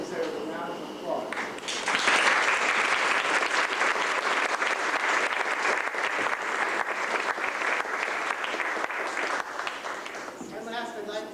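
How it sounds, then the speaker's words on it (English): Steady audience applause at a library-hosted event, dense clapping that swells after a brief voice at the start and continues evenly before tapering as talk returns at the end. "They really deserve a round of applause."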